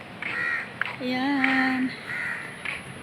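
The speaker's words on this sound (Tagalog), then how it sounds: "Ang daming uwak talaga dito." Several crows caw in a few drawn-out, harsh calls at moderate distance outdoors by freshly cut mahogany trees, with a brief spoken word among them.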